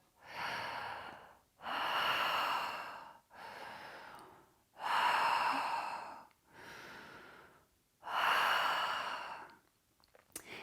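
Slow, deep breathwork breathing in a guided class, with six long audible inhale-exhale cycles through the mouth, each swelling and fading with short pauses between, close and clear.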